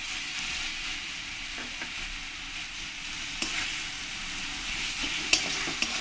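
Tomatoes with ground spices and chili powder sizzle and fry in a pan while a utensil stirs them, giving a steady close hiss broken by occasional scraping clicks, with no voices.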